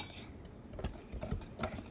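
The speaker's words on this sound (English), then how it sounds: "you're going to whisk it all together" Light irregular clicks and taps of a whisk stirring sifted macaron mixture in a bowl, quiet and close, a few distinct strokes over soft background.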